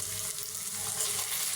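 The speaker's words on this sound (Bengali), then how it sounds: "মশলাটা 2 থেকে 3 মিনিট আমি ভেজে নেব।" Whole spices such as cardamom, cinnamon and bay leaf frying in a pan for chicken curry, making a steady close sizzle at even loudness throughout, without talking.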